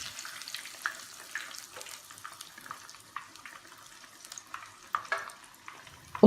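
Battered fish fries in a pan of hot oil, a soft steady sizzle broken by small irregular pops and crackles, heard close and without talk.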